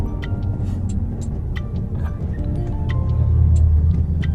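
A car drives along a road toward a TOA rustproofing centre in Mae Klong, Samut Songkhram, its low engine and tyre rumble steady and close, swelling louder near the end, with faint ticking on top and no talk.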